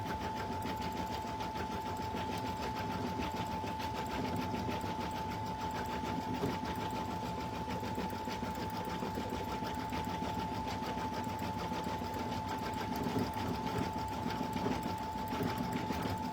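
A sewing machine stitches a stuffed alpaca toy, running in a steady, fast, even mechanical chatter that continues without pause at moderate volume.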